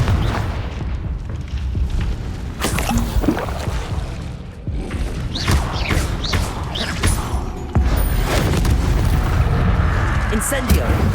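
Fiery blast bursts of the Confringo spell in the video game Hogwarts Legacy, heavy booming impacts and whooshes repeating through a dense, loud combat mix with other spell effects.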